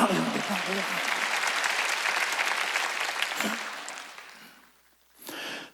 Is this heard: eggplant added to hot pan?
no